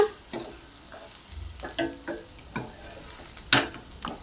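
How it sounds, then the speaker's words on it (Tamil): Chopped onions sautéing in a pan for Indian bitter gourd kulambu, with a steady soft sizzle and irregular scraping stirs of a spatula against the pan, plus a few sharper metallic clinks. "கட் பண்ணி வச்சுருக்க வெங்காயம் நம்ம சேர்த்து நல்லா வதக்கிக்கலாம்"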